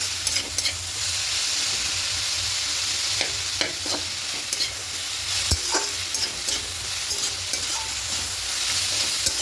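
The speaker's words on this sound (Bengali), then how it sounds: "আর একটু ভেজে নেবো, একটু শুকনো হয়ে যাওয়া পর্যন্ত।" Beans, eggplant, fried lentil dumplings and bathua greens frying in a pan until dry, a steady close sizzle with scattered clicks and scrapes of stirring.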